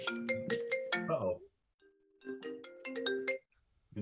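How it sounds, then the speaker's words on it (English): An inbound phone call rings during a Space Base board game session: two bursts of a bright, repeating electronic ringtone melody separated by a short pause, loud and clear with no voices over it. "Inbound phone call."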